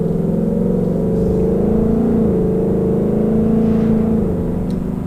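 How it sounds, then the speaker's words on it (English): A 2018 Ford Mustang GT Premium in automatic mode pulls up to speed on a test drive, its engine a steady droning cabin rumble that rises smoothly in pitch without break. "we're now in the 2018 Mustang going for a quick test drive"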